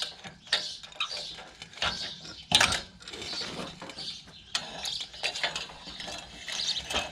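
A new knife is slid by hand into a horse-drawn mowing machine while the pitman is held up, producing close metallic clinks, scrapes and ratcheting rattles in irregular bursts with one sharper clank midway, no talking.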